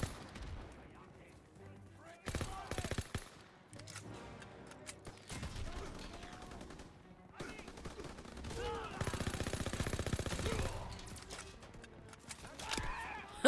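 Gunfire from a Call of Duty WW2 match on Operation Cobra comes in scattered bursts and single shots, some loud and some distant, with a player speaking over the action.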